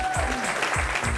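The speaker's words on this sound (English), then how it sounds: "Give a round of applause." Audience applause at a scholarship event in San Antonio, a brief steady wash of clapping with low rumble and faint voices mixed in.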